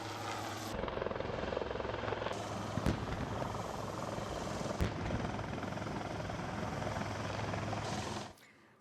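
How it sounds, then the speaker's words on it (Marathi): An Indian Dhruv helicopter flies, its loud, steady rotor thrum continuing for several seconds with a few sharp clicks before cutting off abruptly near the end. "बातमी आता ध्रुव हेलिकॉप्टर बाबत"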